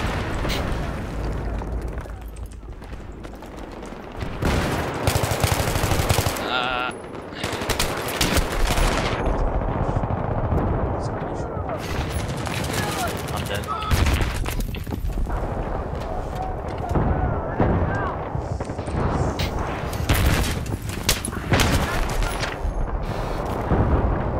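Sustained gunfire from Battlefield 3 multiplayer on the Grand Bazaar map, dense overlapping automatic bursts and heavy booms that rarely pause, loud and close throughout, with occasional voices underneath.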